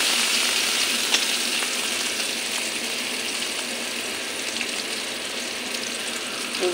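Chopped onion and crushed garlic fry in a pan with a continuous, even sizzle close up, steady throughout and without any voices.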